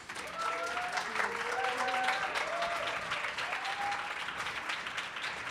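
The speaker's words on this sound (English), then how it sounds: "this is your applause" A large audience at a video game award show applauds warmly and continuously, a dense wash of clapping with a few faint tonal notes drifting through it.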